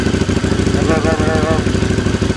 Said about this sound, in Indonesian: Itu suaranya cukup lumayan terdengar raungan itu mesin Fedwin-nya.